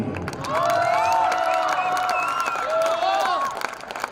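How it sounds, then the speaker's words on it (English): Cheering and clapping for graduating senior soccer athletes at a high school senior night, a crowd's sustained whoops and claps rising and holding, with an announcer's amplified voice and shouts over it. "One more round of applause, ladies and gentlemen, for all your graduating senior soccer athletes"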